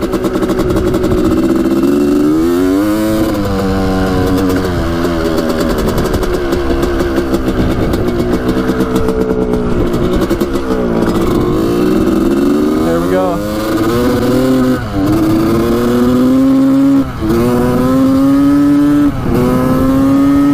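A 1985 Honda CR250 two-stroke dirt bike revs hard on a road, its engine note rising and falling in repeated climbs as it pulls away and returns, loud and close throughout, with a voice speaking over it.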